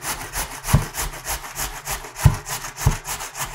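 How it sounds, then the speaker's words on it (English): A raw potato is grated by hand in a close, rhythmic series of rasping scrapes, with a few stronger strokes standing out and no voices over it. "So I'm grating the potato"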